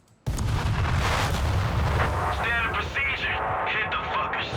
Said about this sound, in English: Half health from a dive bomb, so you're going to need like a fully upgraded dive bomb to kill a bunker.